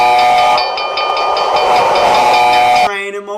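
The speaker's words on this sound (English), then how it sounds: "I got the train in motion." A home arcade machine plays a loud, sustained train-in-motion sound effect with whistle-like tones and rumbling rail noise, which cuts off abruptly near the end.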